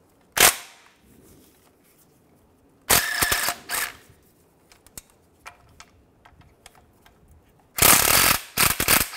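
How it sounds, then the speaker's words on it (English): Ratchet wrench with a 13 mm socket backing out starter bracket bolts on a 2005-2010 Chevy Cobalt, heard as three bursts of rapid metallic clicking separated by quieter clanks and taps. "Use a 13 millimeter socket. And then these two bolts as well."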